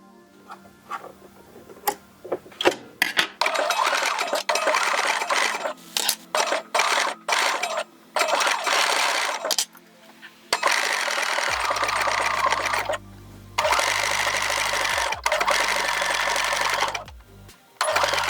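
A sewing machine stitches the armhole seam of a ruched bodysuit, running in loud, close whirring bursts of several seconds each. Short pauses and clicks come between the runs, and no one speaks.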